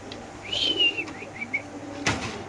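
Racing pigeons at a pigeon farm coo and call in a few brief, fairly close phrases, followed by a sharp clatter near the end, with no talking.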